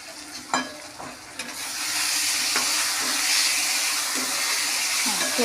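Spices for katla fish kalia sizzle in hot oil in a pan, a steady close hiss that swells after a few early clinks and stirring scrapes, continuing loud and even to the end.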